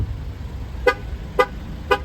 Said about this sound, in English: With those 3 honks, that vehicle is telling me the keys have left the vehicle, but it is still running